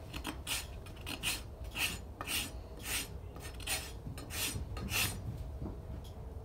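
A farrier's rasp is drawn across a yearling horse's hoof during a trim, giving a steady run of about a dozen scratchy, evenly spaced strokes, close and moderately loud.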